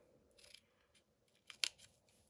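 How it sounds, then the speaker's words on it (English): Scissors snipping a small triangle out of paper, a few quiet crisp cuts with one sharper snip near the end, close and faint against near silence. "So you're just going to cut a little triangle out here."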